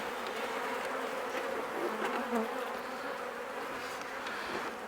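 A steady, dense buzzing of many honeybees close by at a hive, a continuous drone with no talking.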